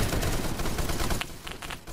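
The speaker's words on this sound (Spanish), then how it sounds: "¿Quién coño me dispara?" Rapid gunfire from the online shooter game Phantom Forces crackles in a dense, loud burst of overlapping shots, thinning to a few separate pops near the end.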